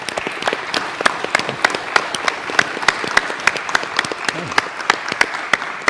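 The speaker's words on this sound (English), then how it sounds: "Could we please give them a very big round of applause?" Steady audience applause for a panel of speakers at a design-thinking convening, dense clapping throughout with a few sharper individual claps standing out, fairly close and sustained.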